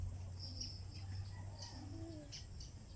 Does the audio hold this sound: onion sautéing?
no